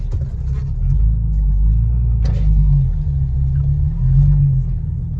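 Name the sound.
2005-2009 Ford Mustang doing a burnout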